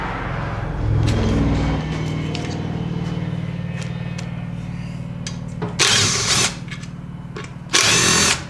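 A power tool whirs in short bursts while an alternator is removed from a Briggs and Stratton 18.5 HP engine, with a steady motor drone beneath, tool clatter, and two loud hissing bursts near the end.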